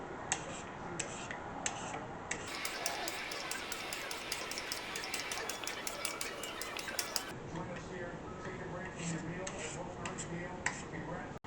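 An English cucumber is peeled by hand, giving steady rapid scraping strokes that are close and fairly quiet, with soft kitchen clatter and a faint voice underneath.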